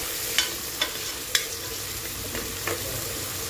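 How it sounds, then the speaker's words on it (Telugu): Tomatoes fry in a pan for a village-style country chicken curry, a soft, even sizzle punctuated by a few light scraping taps of stirring. "టమోటా కూడా పచ్చివాసన పోయి బాగా మగ్గే వరకు మనం ఇలా ఫ్రై"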